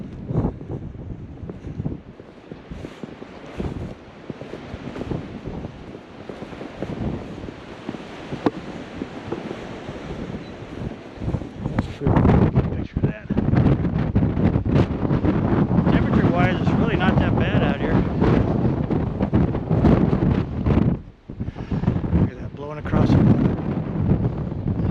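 Strong wind roars continuously across the microphone during a late-winter blizzard in Fremont, Nebraska, loud and gusting throughout with brief dips, while a person talks beneath it.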